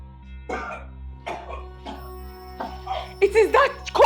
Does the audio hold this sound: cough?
yes